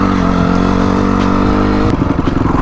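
A dirt bike engine runs loud and close on trail terrain, holding a steady thrumming drone that breaks into choppier, uneven pulses near the end as the throttle shifts.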